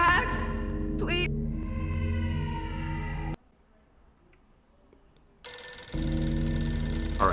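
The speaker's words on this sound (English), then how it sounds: "but the phone is ringing." In the video game Max Payne, a telephone rings in bursts, its electronic tones first layered over other game sounds and then, after a quiet gap, returning to ring on clearly and loudly.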